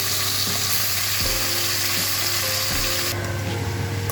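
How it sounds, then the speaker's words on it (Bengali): Small fish frying in hot oil for a Bengali radish and small fish dish, giving a loud, continuous sizzle with occasional stirring bumps and no talk. "তেল গরম হয়ে গেছে, এখন আমি মাছগুলোকে ভেজে তুলে নেব।"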